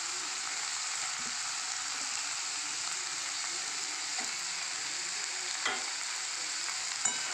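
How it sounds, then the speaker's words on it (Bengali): Chicken masala for bread upma, with shredded boiled chicken, sizzles steadily in a pan while being stirred, giving a constant close frying hiss and occasional soft scrapes and clinks of the spoon. "এবার আমি এটাকে ভালোভাবে নেড়ে তৈরি করে নেব মশলাটা।"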